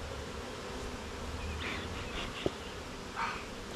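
Bees hum as a steady, dense swarm drone throughout a beginner's beehive inspection, with a few brief sharper buzzes passing close by.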